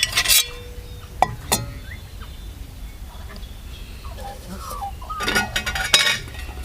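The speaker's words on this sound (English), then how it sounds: "My fry pan off the top of my Totes 1100 sits in there." A metal fry pan is set onto a small camping burner, giving sharp clinks and scrapes of metal on metal in short bursts at the start and again near the end, with quiet gaps between.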